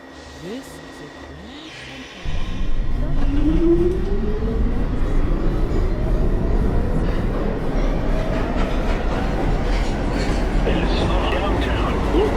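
An R62 1 subway train on the downtown local run starts rolling after a quieter interval, then roars along loudly with steady wheel rumble, rising motor whine and rattling clatter.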